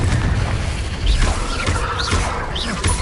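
Confringo fire spell explosions from a Harry Potter-style video game, heavy booming blasts landing repeatedly over a dense, noisy battle bed with whooshing spell casts in between.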